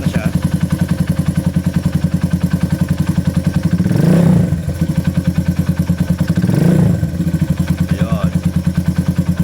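Idling Rusi RKS 150 motorcycle engine fitted with an oil cooler, a steady close rapid thumping putter with two brief throttle blips that swell and fade.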